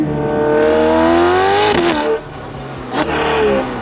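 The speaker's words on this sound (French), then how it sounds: "une pista qui roule avec un échappement Novitec" A loud Ferrari 488 Pista with a Novitec exhaust revs hard through rising gears, then drops to a throaty burble with crackles between shifts, heard from close by.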